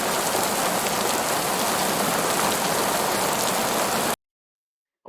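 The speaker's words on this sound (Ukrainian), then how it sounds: "Ох, як гарно прозвучав дощик." Steady, dense rain pours down in a loud, even hiss that continues without a break for about four seconds and then stops abruptly.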